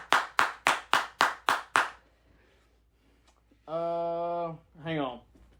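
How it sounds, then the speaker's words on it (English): Seven sharp, evenly spaced hand claps ring out close and loud, followed by a short pause and then a brief stretch of a voice speaking. "But fucking round of applause."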